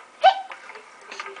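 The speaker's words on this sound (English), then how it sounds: "Uh-oh. Hiccup." A baby gives a single sharp, close hiccup, followed by soft voiced baby sounds.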